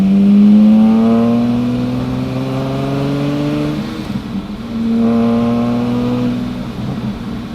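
A Fast & Furious Lamborghini engine accelerating hard up through the gears, loud and close, with two rising revving pulls separated by a brief dip at a gear change.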